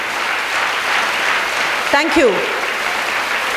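Sustained clapping from a school-hall audience of children at a Women's Day gathering, steady and broad throughout, with someone briefly speaking into a microphone over it.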